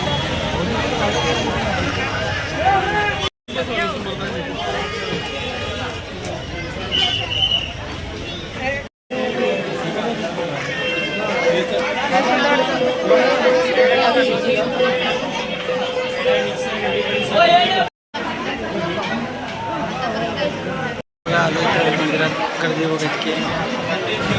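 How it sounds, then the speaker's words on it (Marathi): Large crowd of devotees waiting for darshan at a temple, a dense babble of many voices filling the space steadily, with brief cuts of silence and a nearby voice speaking over the hubbub. "मित्रांनो गर्दी भरपूर आहे दर्शनासाठी"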